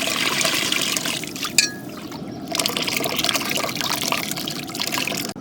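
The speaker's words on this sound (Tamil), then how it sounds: "அடுத்தது நம்ம கரைச்சி வச்சிருக்க புளியை சேர்த்துக்கலாம்." Dissolved tamarind water is poured into a homemade ayilai mackerel fish curry cooked in a large batch, a continuous close liquid stream with a brief clink partway through, then steady trickling until the end.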